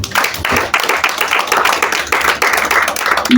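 A church congregation applauding in acclamation of the Lord, a dense, continuous wash of many hands clapping nearby, swelling and dipping in waves without talk.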